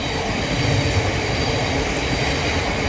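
A train rolls past on a railway line in south London, a steady broadband rumble of wheels and carriages holding at close range for the whole stretch, with no voices.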